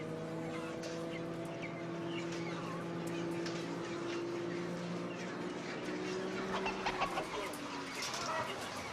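Chickens cluck and murmur inside a poultry house, their calls soft and somewhat distant over a steady hum, with a few sharper sounds late on.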